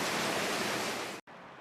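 Heavy storm rain pounds the roof, heard up close as a loud, steady hiss, with a brief cut near the end before it carries on slightly quieter.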